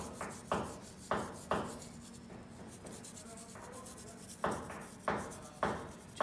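A rusty motorcycle chain is scrubbed by hand, giving repeated rasping brush strokes in uneven bursts, close and fairly quiet, with no voices.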